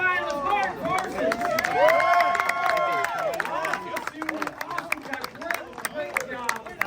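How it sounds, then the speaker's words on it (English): Applause and cheering from an event audience for a speed finalist at a pellet-shooting championship, loud claps and crowd hubbub mixed with an announcer's talk, fading to scattered claps. "big round of applause for our first female speed finalist, Mark Parsons."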